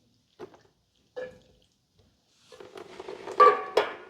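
Water is poured from a small watering can into a potted philodendron in fresh soil: two brief soft splashes, a pause, then a longer burst of trickling and gurgling that rises and fades near the end.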